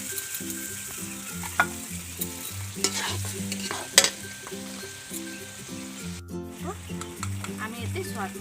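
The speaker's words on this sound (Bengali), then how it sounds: "এই দেখো আমি পেঁয়াজ দিলাম।" Onions frying and being stirred in a pan while cooking egg kosha, a steady sizzle with repeated spoon scrapes and clinks close by, faint background tones underneath.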